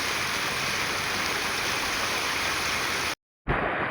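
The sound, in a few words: floodwater gushing past the temple road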